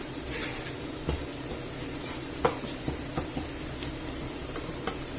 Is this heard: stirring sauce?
yes